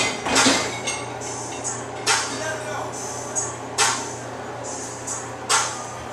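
A silver metal spatula scrapes and clinks against a pan while stirring shrimp, with five or six distinct sharp strikes spaced a second or so apart over a low hum.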